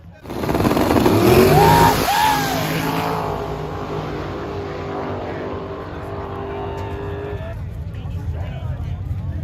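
A nitrous-fed Camaro drag racing a boosted turbo car on the street, engines roaring loudly then fading into a sustained drone, with excited voices shouting over the noise.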